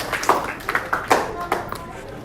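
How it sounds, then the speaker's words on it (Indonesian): A small classroom group claps in a few sparse, uneven bursts, fairly quiet and close, with separate hand strikes audible rather than a full ovation. "tepuk tangan untuk kelompoknya Febri"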